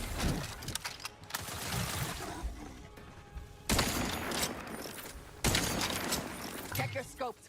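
Video game gunfire in a sci-fi firefight: dense, sustained bursts and volleys with loud impacts and crashes, swelling and receding with a few sharp surges, while a voice speaks over the action.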